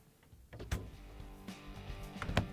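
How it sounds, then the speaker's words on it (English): Doors on a Samsung refrigerator are swung shut after a temperature sensor repair, producing a couple of close thuds and soft clunks with some rubbing and rattling between them. "we can close the doors."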